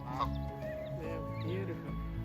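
Ducklings on a pond during a morning nature walk, with soft quacks and peeps close by over a steady outdoor hum, and faint voices in the background.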